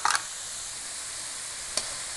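Capsicum and vegetables for chow mein frying in a pan, with a steady hiss of sizzling and a couple of short scraping stirs at the start and near the end.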